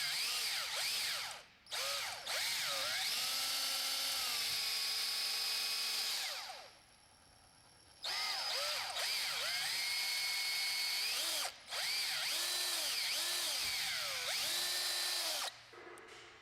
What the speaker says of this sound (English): clamp the mount in a vise and drill the holes with a hand drill